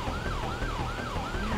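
Wailing ambulance siren from GTA 5 racing at high speed, sweeping up and down in a steady repeating cycle of about four rises, loud over a constant low road and engine rumble.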